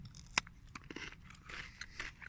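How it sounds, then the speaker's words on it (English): A sharp crisp bite into a crunchy chocolate bar followed by several softer crunching chews, close up and quiet, with faint rustling between them. "It does have a good crunch."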